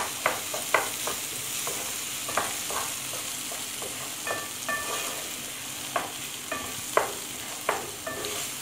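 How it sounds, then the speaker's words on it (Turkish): Vermicelli toasting and being stirred in a pan for rice pilaf, with a steady close sizzle and repeated scraping stirs at an uneven rhythm, no talking. "Böyle biraz şehriyelerimi kavuruyorum."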